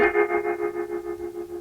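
Electric guitar played through a Gamechanger Audio Light optical spring reverb pedal, a sustained distorted chord with a fast pulsing shimmer and springy echo that slowly fades.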